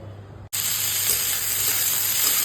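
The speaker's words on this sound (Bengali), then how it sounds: "দুদিকে দুটো কড়াই বসিয়ে দিয়েছি এটা ডালটা ভাজছি এটা সবজিটা ভাজতে শুরু করে দেবো" Lentils frying in a wok on a home kitchen stove: an abrupt start, then a loud, even, close sizzle that holds steady to the end.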